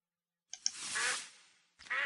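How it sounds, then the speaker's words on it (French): A duck in a survival video game quacks: two short clicks lead into a drawn-out nasal quack, then after a brief silence a second quack starts, loud and clear with no talk over it. "Un canard."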